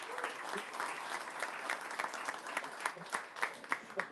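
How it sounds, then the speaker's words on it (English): A live audience applauds the staff at an evening show, steady clapping from a full crowd that swells and then breaks into sharper, scattered claps near the end. "How about a big round of applause for the staff tonight?"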